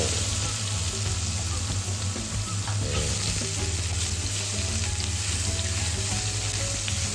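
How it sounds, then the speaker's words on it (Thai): Champignon mushrooms stir-frying in melted ghee in a wok: a loud, continuous sizzle with a steady low hum beneath and occasional scraping of the spatula, no talking. "แล้วก็ผัดให้ทั่วให้ น้ำมันกีเนี่ย น้ำมันของเนยกีมันซึม เข้าไปในเห็ด"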